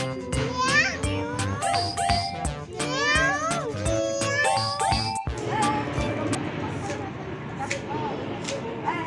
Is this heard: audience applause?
no